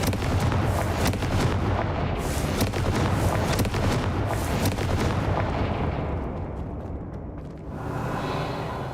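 Sustained rumbling fiery blasts from the Confringo spell in the Hogwarts Legacy video game, dense and loud for several seconds with repeated sharp cracks, easing slightly near the end.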